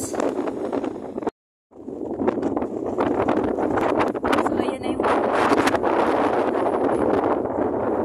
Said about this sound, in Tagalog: Yung hangin ang lakas.